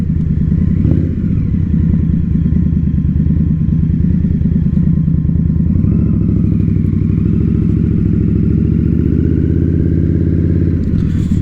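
A 2022 Indian Scout Bobber V-twin motorcycle idles and rumbles steadily at close range, with a brief throttle blip near the start and a slight rise in revs later. No one speaks over it.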